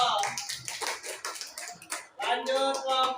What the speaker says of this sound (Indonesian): tepuk tangan untuk Rido